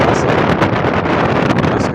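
Strong wind at a beach resort in Calatagan, Batangas buffets the microphone in loud, continuous rushing gusts, roaring and uneven for the whole moment.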